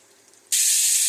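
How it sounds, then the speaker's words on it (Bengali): After a quiet moment, a sudden loud sizzling hiss bursts out as paneer hits hot oil in a kadai and keeps frying steadily to the end. "এবার ওই কড়াইয়ের মধ্যে পনিরগুলো ভেজে তুলে নিয়ে কড়াই থেকে ভাজতে বসিয়ে দিয়েছি।"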